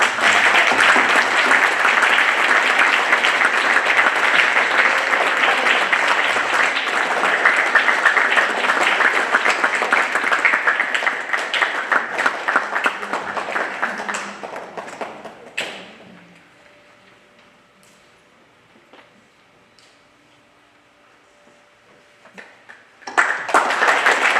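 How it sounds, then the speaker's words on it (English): Audience applause for a children's dance performance at a Shivam Dance Academy Arangetram, a loud, dense wash of clapping that carries on for about fifteen seconds, thins into faint scattered claps and quiet, then swells again briefly at the end. "let's give a big applause"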